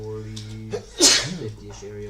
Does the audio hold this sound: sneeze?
yes